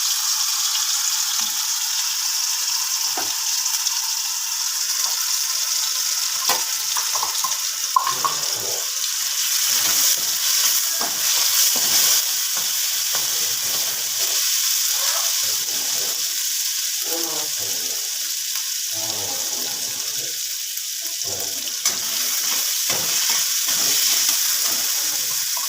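Ginger garlic paste fries in hot oil in a pan while chicken dum biryani is being cooked. A bright, steady sizzle runs throughout, with occasional stirring scrapes and soft handling sounds close by.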